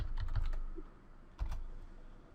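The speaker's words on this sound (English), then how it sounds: "We need to type here Explorer," Computer keyboard keys clatter in two short bursts of quick typing, close and clear, separated by a brief pause while a command is entered in safe mode.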